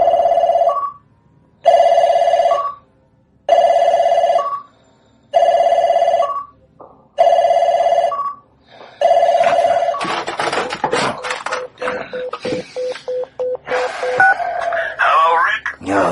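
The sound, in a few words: telephone ringing in radio drama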